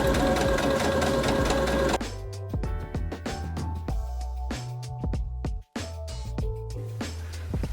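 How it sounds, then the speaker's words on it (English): A sewing machine runs steadily while stitching the waist seam of a handmade dress, first in a continuous loud whir, then in shorter stop-start bursts with one brief pause near the end. "now I'm going to sew the waist"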